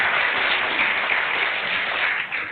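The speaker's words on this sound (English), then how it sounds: "So please be generous in clapping." Audience applause at an inter-university bilingual declamation competition, a sustained wash of many hands clapping in a hall, steady and loud before tapering slightly at the end.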